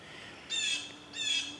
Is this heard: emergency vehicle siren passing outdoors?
no